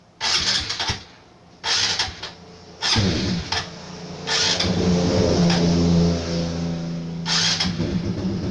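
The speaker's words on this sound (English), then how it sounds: "this is how the turbo sound booster works" An Aprilia RS 125 motorcycle engine fitted with a sound booster revs hard in several sharp bursts, then settles into a loud, rumbling sustained rev close by.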